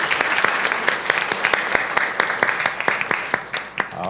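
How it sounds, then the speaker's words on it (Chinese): A church congregation at a Sunday service claps to welcome a new member, a dense, steady round of applause lasting throughout before tapering off near the end. "请起立，我们拍手"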